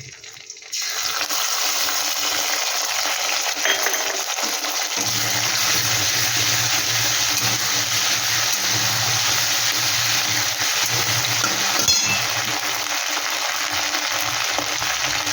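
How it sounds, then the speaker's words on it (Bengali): Ginger and green chili paste frying in a pan of rice for a potol dish, a dense, loud, continuous sizzle close by after a short quiet start, with a low rumble underneath and a faint scrape near the end; no talking. "এটা একটু ভেজে নেব। এইখানে আমি দিয়ে দেব আদা আর কাঁচা লঙ্কা বাটা।"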